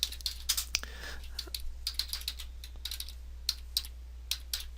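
Rapid clicking of a computer keyboard as a search term is typed, a fairly quiet, uneven run of key taps with short pauses, heard alone over a low steady hum.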